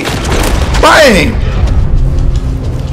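Gunshot in the video game Red Dead Redemption 2, a single loud boom near the start that fades into the game's ambience, with someone speaking over it.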